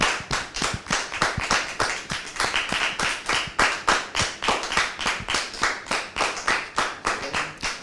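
Rhythmic, unison clapping from a studio audience welcoming a guest, sharp evenly spaced claps in a steady beat, close and fairly loud throughout.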